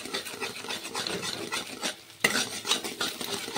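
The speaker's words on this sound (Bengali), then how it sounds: "এখন এইভাবে নেড়ে চেড়ে ডিমগুলোকে ভেজে নেব।" Beaten eggs fry in a pan while being stirred and broken up constantly, close scraping and clinking of a utensil against metal over a light sizzle, with a brief lull before the rapid stirring resumes.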